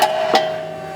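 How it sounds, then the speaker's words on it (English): A 2015-or-later Ford Mustang IRS vertical link gets popped out of its socket near its lower bushing: a sharp metallic knock opens the clip and a second impact follows, then a ringing metallic tone fades out, with no talking. "we're going to start by popping the lower portion out of its socket"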